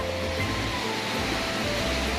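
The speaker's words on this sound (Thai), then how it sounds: "ฝนก็แรงฟ้าก็แรงค่ะ" Dense, steady roar of heavy rain pouring down continuously during a thunderstorm, loud and close, with no voices.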